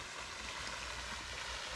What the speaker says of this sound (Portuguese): Olha que bonita a queda d'água ali.